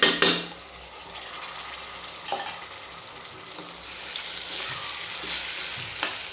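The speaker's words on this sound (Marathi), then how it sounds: "यावरती आपल्याला टाकायचा हा बासमती धुतलेला राईस" Washed, drained basmati rice for Maharashtrian matar pulao is tipped into a hot pan and stirred, sizzling and frying with scraping spoon strokes and a loud clatter at the start, then steady crackle.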